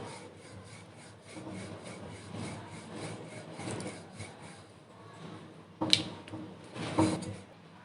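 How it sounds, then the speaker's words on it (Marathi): Dough for a thin flatbread being rolled out with a rolling pin on a kitchen surface, a steady soft rubbing and rasping that rises and falls with each stroke, with a couple of louder knocks near the end. "आता आपल्याला एक पोळी लाटून घ्यायची आहे"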